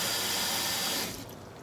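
A tap gushes water into a tub in a kitchen sink, giving a loud, close hiss that cuts off abruptly partway through, leaving a quieter trickle.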